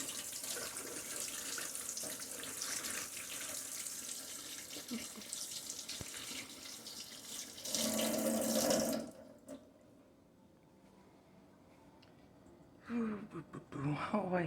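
Cherry tomatoes are washed under a running kitchen tap, water splashing steadily before the flow cuts off, leaving quiet with faint handling noises and a soft voice.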